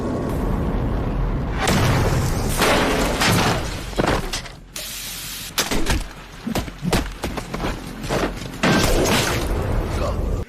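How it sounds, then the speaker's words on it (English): Explosion in a warehouse, loud bursts and crashing impacts with debris and rumbling, several heavy hits spread across the span with brief quieter gaps, mixed with chaotic action sounds. "An explosion followed."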